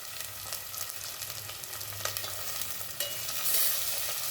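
Potato, peas and tomato sauté in a pan for masala rice, giving a soft steady sizzle broken by scraping stirs and a few sharp clinks of the spoon, with no talking.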